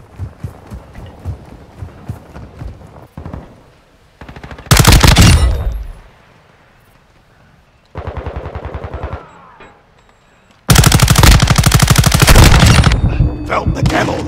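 Call of Duty Modern Warfare 2 gunfire: patter of distant shots, then two long, very loud, close automatic bursts with quieter rapid fire between them.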